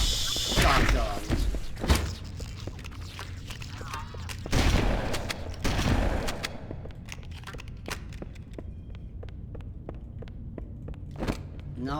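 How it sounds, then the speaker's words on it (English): Shotgun blasts in the video game Halo ring out as several loud booming shots spread across the clip, mixed with thuds, footsteps and other combat noise, with a voice briefly heard. "Shotgun."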